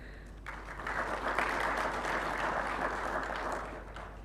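A conference audience applauds steadily at a regional skills competition and awards event, a broad sustained wash of clapping that swells after a quiet start and holds through to the end.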